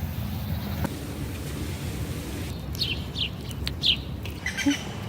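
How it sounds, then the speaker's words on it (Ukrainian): Small birds chirp and call in a riverside park on a morning, a few short bright notes rising over steady low outdoor rumble and wind, moderately distant. "Пташка, пташки як співають."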